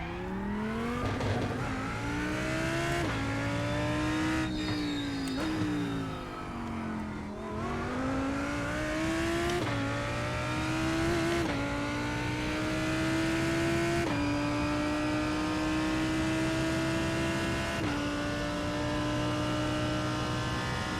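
A Lamborghini GT3 race car laps the Red Bull Ring in a racing video game, its engine note climbing through the gears in repeated rising sweeps, each shift dropping the pitch before another steady pull.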